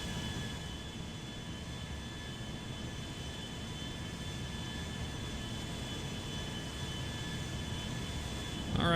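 A steady, even jet engine drone from an Airbus A340-300 taxiing in GTA 5, with a constant whine holding throughout and a brief rise near the end.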